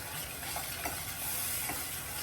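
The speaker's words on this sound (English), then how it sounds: "So continuously keep on stirring." Yogurt is stirred continuously in a hot pan for Kashmiri dum aloo, making a soft, steady sizzle with faint scraping strokes, heard quietly and without voices.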